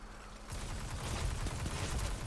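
Rapid gunfire in the video game Destiny, beginning after a short quiet moment and continuing as a dense, continuous fusillade of overlapping shots at moderate level.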